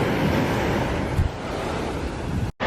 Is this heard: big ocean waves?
yes